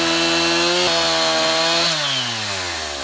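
A Stihl MS290 chainsaw engine runs loud and close, holding a steady high idle before dropping off as the revs wind down.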